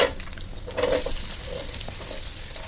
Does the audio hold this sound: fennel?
yes